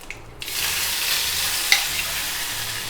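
Curry leaves, mustard seeds and urad dal drop into hot oil with ginger, bursting into a steady loud sizzle close up with a few small pops and crackles.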